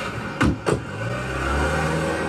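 A cartoon car starts up and drives off, beginning with two quick clunks like doors shutting, then an engine whose steady hum rises slightly as it pulls away.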